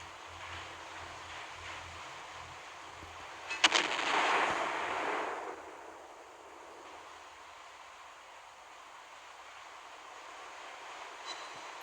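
Naval guns loosing a salvo of high-explosive shells in a video naval battle as the ship Kaliningrad: one heavy boom followed by a rolling rumble that fades, the rest quiet.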